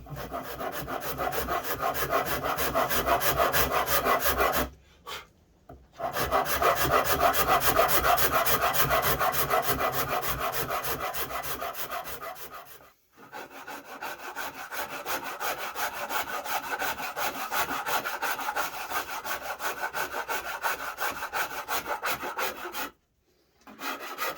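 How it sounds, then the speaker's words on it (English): Hand rasping and filing of wood with a Shinto rasp and an Iwasaki file, long steady back-and-forth scraping strokes, close and loud, broken by a few short pauses. "Got my Shinto, Iwasaki, and a couple of files there."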